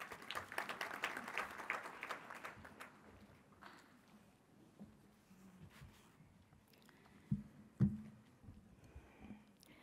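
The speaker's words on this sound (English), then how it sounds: "Please give a big round of applause for Dr." A graduation ceremony audience for the Faculty of Management Sciences claps in a burst of applause that is fairly loud at first, then thins out after a few seconds into scattered faint thumps and shuffling.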